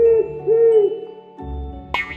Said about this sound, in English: O is for owl.